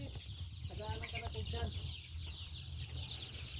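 Several chickens cluck close by in short, choppy bursts, a flurry of clucks in the first couple of seconds, then quieter barnyard murmur with a faint background voice.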